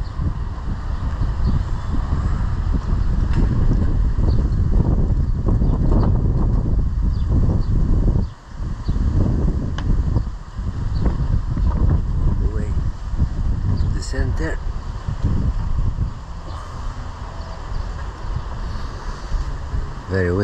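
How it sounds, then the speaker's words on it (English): Strong wind buffets the microphone in loud, continuous low rumbling gusts aboard an electric sailboat, with a person talking over it at times. "Very windy still, picking up actually more"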